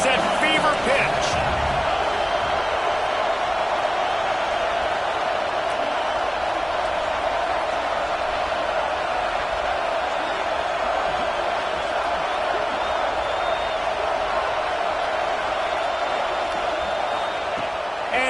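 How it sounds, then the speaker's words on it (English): A stadium crowd in a Madden football video game roars in a steady, dense wall of noise that stays loud and unbroken from start to finish. "this crowd is at fever pitch"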